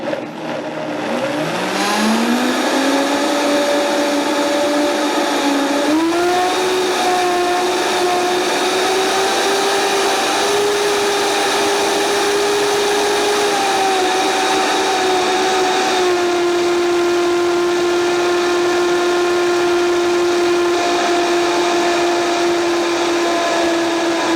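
A blender motor whirs steadily while blending coconut and leafy greens, loud and continuous, its pitch rising as it spins up and then holding a sustained high whine with a slight step upward partway through.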